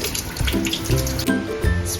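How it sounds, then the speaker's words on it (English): Water runs from a kitchen tap over a cucumber being washed, a steady splashing stream broken by uneven gurgles and patters as the vegetable moves under the flow. "Wash the cucumber."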